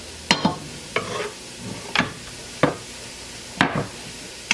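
About three cloves of garlic frying in a pan, a sizzle broken by sharp scraping strokes of stirring roughly every second, close and fairly loud, with no talking.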